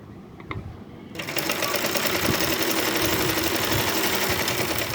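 A sewing machine runs steadily, stitching the shoulder seam of a yoke-style nighty; a few faint clicks come first, then the motor starts about a second in and hums loud and continuous to the end, with no talking.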